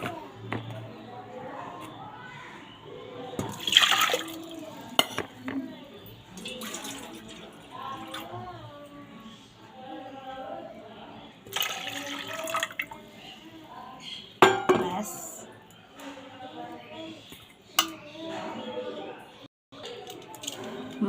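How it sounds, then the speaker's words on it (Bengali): Water is poured into a pot of rice and lentils, with trickling and splashing that comes and goes over about twenty seconds amid occasional clinks, while a person talks throughout. "মাপ অনুযায়ী জল দেওয়া হয়ে গেছে"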